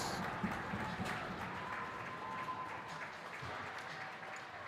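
Home crowd at Fred Rust Arena applauding and cheering after a Delaware women's ice hockey win over Maryland, a steady wash of clapping held at an even moderate level throughout.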